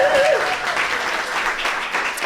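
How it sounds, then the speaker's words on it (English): An audience at an artist talk on dance and technology applauds, a dense steady spread of clapping filling the room, loud and continuous, with a brief tonal voice-like sound at the very start. "let's give them all a round of applause"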